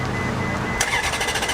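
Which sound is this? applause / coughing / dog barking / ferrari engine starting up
ferrari engine starting up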